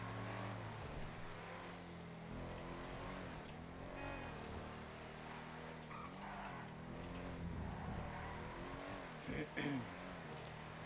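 A car in a GTA roleplay game drives and accelerates steadily, its engine droning and rising in pitch through several gear-like swells, with a couple of brief clunks near the end.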